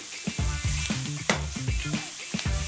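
Leeks sizzle and caramelize in a pan while being stirred and scraped, a close, steady crackle broken by repeated knocks of the utensil against the pan. No one speaks.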